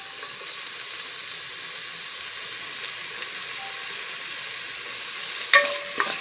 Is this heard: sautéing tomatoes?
yes